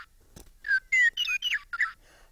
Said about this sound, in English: This is the Western Meadowlark.